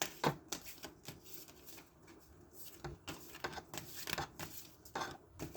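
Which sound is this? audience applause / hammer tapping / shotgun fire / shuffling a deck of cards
shuffling a deck of cards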